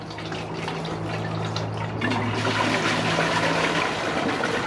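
A 2004 Eljer Patriot toilet drains water while unclogging, a steady close gurgling rush of water with a low hum beneath, continuing without pause throughout.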